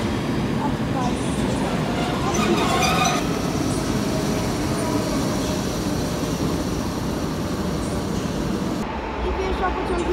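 An Intercity passenger train hauled by an ET07 locomotive rumbles past in Wrocław with a loud, continuous roar of wheels on rails and some metallic squeal, while someone talks over it.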